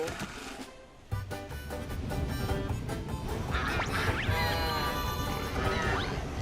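Ducks quack over and over in a noisy, crowded jumble that swells after a sudden burst, with other clatter mixed in, in a children's cartoon.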